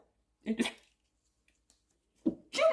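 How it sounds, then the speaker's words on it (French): A stifled sneeze attempt, two short sharp bursts of breath separated by a pause, close to the microphone. "j'avais envie d'éternuer et il a eu du mal à sortir"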